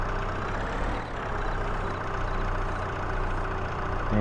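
Steady engine drone from a skid steer loader in Farming Simulator 22, a continuous low rumble idling loudly with no talk over it.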